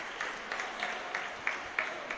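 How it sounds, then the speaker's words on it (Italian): An arena crowd at the Palaboschetto applauds during a women's Serie A handball match between Ferrara and Mezzocorona, with steady, fairly distant clapping broken by periodic sharper swells, and no talk over it. "Applaude il Palaboschetto"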